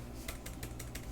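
A computer keyboard is typed on in a quick run of about six faint, evenly spaced keystrokes over a low background hum, with no voice.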